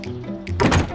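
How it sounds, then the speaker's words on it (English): A Wyze smart lock on a front door engages with a muffled mechanical thunk and a brief whirring rattle, heard close in a short burst. "Alexa, lock the front door."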